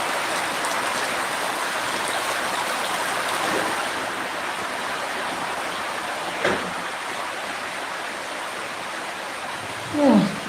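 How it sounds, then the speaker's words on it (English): Rain falls outdoors in a constant hissing wash of noise, with a couple of brief knocks or bumps and a short sound near the end breaking through the steady patter. "I'm so sorry, there's rain here."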